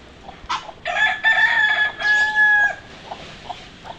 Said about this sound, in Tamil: கோழிக்கும் வாத்துங்களுக்கும் சண்டை